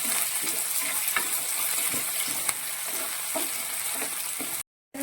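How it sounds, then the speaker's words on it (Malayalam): Mustard seeds, fenugreek, dried red chillies and curry leaves sizzle steadily in hot oil, a close, continuous crackling hiss that cuts out briefly near the end. "കറിവേപ്പിലയും കൂടി ഇട്ട് ഇതിനെ നന്നായിട്ടൊന്ന് മൂപ്പിച്ചെടുക്കണം"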